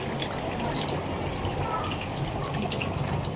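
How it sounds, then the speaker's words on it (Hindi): Rainwater dripping and trickling through a leaking house roof during rain, a steady dense wash of water sound with small drip patters, close by and continuous, with no talk. "ये देखिए बारिश हो रही है और ये टपक रहा है हमारा सारा।"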